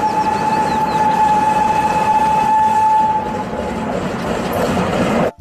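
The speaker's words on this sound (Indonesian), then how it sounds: "lihat teman-teman, di sini ada kereta Thomas" A Thomas toy train chugs with a rattling clickety-clack and a long steady whistle tone, running continuously before stopping abruptly at the end.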